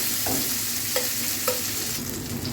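Sliced onion and green chilies frying in oil in a pan make a dense, even hiss close by, with a few light clinks and stirs rising above the steady sizzle.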